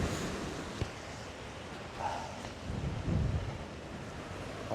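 Storm waves surging against the Dawlish sea wall, a low rumbling wash of water under heavy gusting wind noise, with a few stronger surges rising and falling at a moderate distance.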